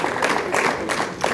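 Wedding guests applaud in a steady, moderate wash of clapping that swells and dips over a short stretch, with no voices standing out.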